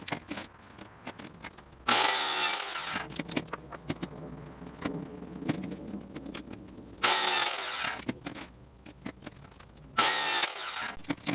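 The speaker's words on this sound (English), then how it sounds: "I used a circular saw to cut these" A circular saw rips through wooden planks for a raised bed planter box in three loud, separate cuts, each a roaring whine lasting a few seconds, with quieter handling and shuffling noises in between.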